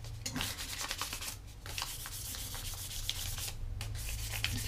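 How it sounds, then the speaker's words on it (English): A wooden spoon being sanded by hand with fine-grit paper after 400 grit: steady, continuous rasping strokes with a repeating back-and-forth rhythm, close and moderately loud, no talking. "You just gotta get all the smaller scratches out with a finer grit at this stage."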